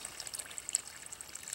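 Water poured onto tilled soil, a soft continuous trickle and gurgle with faint splashes, fairly quiet and steady throughout.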